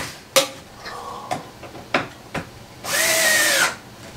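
Power drill driving screws into a wooden panel of a PR&E BMX III broadcast console, with several sharp knocks and then one close whining burst of under a second.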